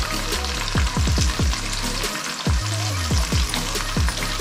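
Onions, mint and curry leaves fry in hot oil in a pan for a Telugu fish curry. A steady close sizzle runs under repeated scraping stirs. No one talks.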